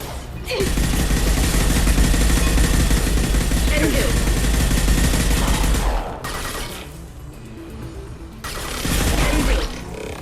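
Sustained gunfire in Mass Effect 2 Legendary Edition combat, heavy, close bursts of shooting that dip briefly and then resume with sharp impacts.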